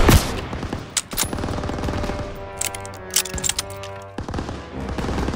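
Machine gun fire and a battle fusillade in the video game Call of Duty: WWII, with loud close bursts and rapid shots that come in waves, mixed with distant gunfire and a rumble of battle.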